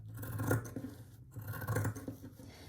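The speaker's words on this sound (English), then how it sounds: "I'm doing with these pinking shears just because as I'm working on it, I don't want it to fray" Pinking shears cutting through embroidery fabric stretched in a hoop, trimmed about an inch from its edge: two distinct close crunching snips about a second apart, each with a short scraping rasp, in a quiet room.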